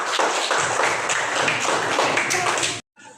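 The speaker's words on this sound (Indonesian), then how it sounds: "Beri tepuk tangan untuk kelompok Pak" A classroom of third-grade primary school children claps for the fourth group, a loud burst of brisk, uneven clapping lasting a few seconds before stopping abruptly.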